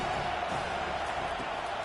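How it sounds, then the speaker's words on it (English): A football stadium crowd roars in a steady, dense wall of cheering as the home fans try to keep the opponent pinned deep in its own end, with no clear break throughout. "They've got them pinned deep in their own end, and this crowd trying to help keep them there."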